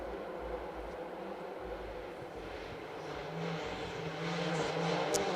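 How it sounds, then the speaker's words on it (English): Rally cars, including a red Ford Escort WRC, driving sideways through a canyon on a rally stage, a steady roar of engines building in loudness toward the end, heard from a distance. "Lots of rally cars going very sideways and sounding great coming through the canyon."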